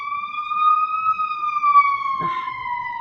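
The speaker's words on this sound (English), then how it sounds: "Sorry about the sirens." A loud wailing emergency vehicle siren on a Chicago city street holds a steady, slowly falling tone, with faint traffic noise and a brief thump beneath it.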